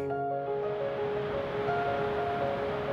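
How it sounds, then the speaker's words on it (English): Meltwater from the Greenland ice sheet rushes in a river, a steady broad roar of flowing water with some wind noise and a faint tonal hum, continuous and even with no voices. "So the river we see behind us is a result of meltwater coming from all over the ice sheet"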